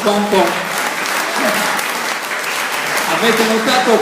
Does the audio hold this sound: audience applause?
yes